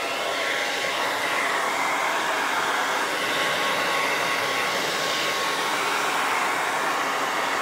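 A hair dryer blows steadily and loudly on wet paint on a craft surface, a continuous broadband whoosh that holds an even level throughout with no talking.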